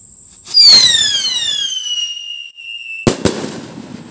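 An Asta whistle racket firework set off at night gives a loud, piercing whistle that slides downward for about two seconds, then cuts off, followed by two sharp cracks close together.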